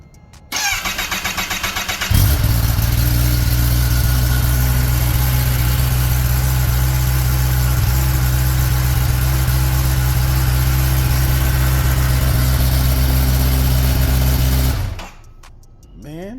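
A Kawasaki Ninja ZX10R sportbike with a stock muffler starts from cold, the starter cranking briefly before the engine catches into a loud, steady, rumbling idle that holds close for about twelve seconds and then cuts off, with no talk over it.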